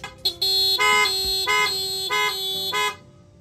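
Loud PIAA aftermarket horn fitted to a Honda ADV 160 scooter, sounding in several sharp blasts: two short taps, then three longer honks with brief gaps, ringing and close.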